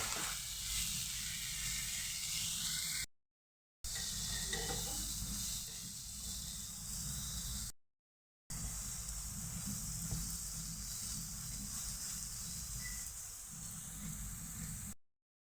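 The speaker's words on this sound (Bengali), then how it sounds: "কাঁচা রাখবো না একটু ভেজে নেবো" Soybeans frying in a pan for a paste, a soft steady sizzle and hiss running through several short stretches broken by abrupt silent gaps, with faint stirring.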